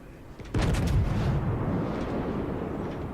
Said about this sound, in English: he is in firing range, so I got my shells loaded on him